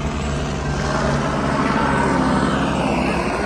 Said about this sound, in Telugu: ఆకాశంలో హెలికాప్టర్ పోతూనే ఉంది.